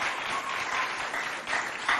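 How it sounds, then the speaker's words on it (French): An audience at a school poetry event in Doba, Chad, applauds steadily throughout, with dense, continuous clapping at moderate distance and no talking. "Alors là, on applaudit encore bien fort, même Ousmel Florence."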